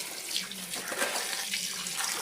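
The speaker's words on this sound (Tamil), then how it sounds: "இப்போ நான் இதை 3ஆவது டைம் வாஷ் பண்ண போகிறேன்." Tap water pours steadily into a sink as vegetables are rinsed for a sambar and poriyal dish, a close, continuous splashing hiss with small shifts as the produce is moved under the stream.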